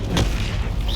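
A Confringo spell blast in Hogwarts Legacy on Xbox Series X, a loud booming burst that swells near the start and rolls into a sustained rumbling wash of fiery noise.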